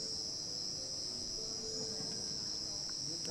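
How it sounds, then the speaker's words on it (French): A steady high insect whine hangs over a lake in Vietnam, the buzzing of mosquitoes or crickets, faint and continuous with no talking. "Vous entendez les moustiques?"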